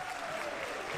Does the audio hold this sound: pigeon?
no